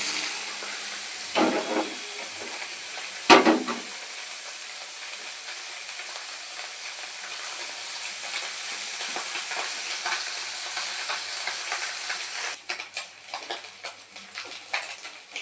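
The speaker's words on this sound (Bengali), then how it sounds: "মাছগুলো তো আমার খুব সুন্দর করে ভাজা হয়ে গেছে" Mourala fish frying in hot oil, a steady bright hiss of sizzling that runs continuously and loudly, with a couple of brief clatters early on and a choppier, uneven patch of crackle toward the end.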